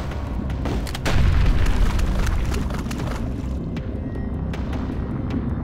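A deep, heavy boom like a torpedo blast rolls out in the video game HROT, swelling about a second in over a rumbling low background and then fading into a long dark rumble.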